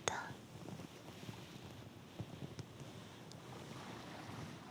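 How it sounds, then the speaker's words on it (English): Ocean waves wash in a soft, continuous hiss while wind blows across the microphone, faint and muffled, with a brief breathy whisper-like sound near the start. "The waves are still noisy. The wind is still blowing"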